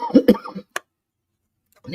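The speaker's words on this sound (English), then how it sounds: "I go with this coughing again" A man coughs a couple of times in quick, close bursts, followed by a short click and silence, with a brief voice returning at the end.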